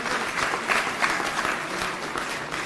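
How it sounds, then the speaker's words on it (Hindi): An audience claps steadily at a public address in Delhi, a sustained round of applause with a fairly even, dense texture and no talk over it. "तो एक बार उनके लिए तालियां बजा दीजिए।"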